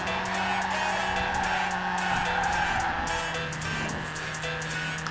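A Toyota AE86 drifting in the Forza video game, a steady engine drone with sustained tire squeal and skidding layered over it, continuous and moderately loud, with a faint voice underneath.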